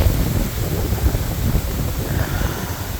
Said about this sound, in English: it's also windy and kind of raining, so it's cold as shit